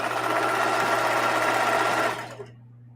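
Sewing machine stitching a mitered binding onto mudcloth, running as a loud steady whir close by for about two seconds, then stopping to near silence.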